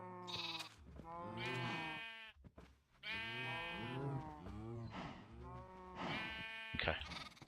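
Sheep in the Minecraft video game bleat loudly and repeatedly in several drawn-out, wavering calls with short pauses between them.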